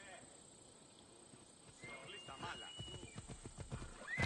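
A horse in Assassin's Creed Odyssey neighs and clip-clops at a gallop, the game sounds rising from a quiet start into steady hoofbeats with a whinny, faint and under a low background.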